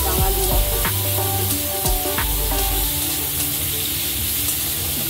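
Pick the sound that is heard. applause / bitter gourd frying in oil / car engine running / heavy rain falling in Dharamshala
bitter gourd frying in oil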